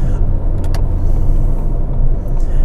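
A car passes close by on the road during a drive, a steady loud rumble of tyres and engine noise filling the cabin throughout, with no talking.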